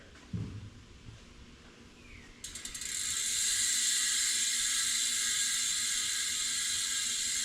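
A Hunt XC Wide mountain bike wheel hub with 5 degrees of engagement freewheels in a fast, dense ratchet buzz that starts after a few quiet handling knocks and holds loud and steady to the end.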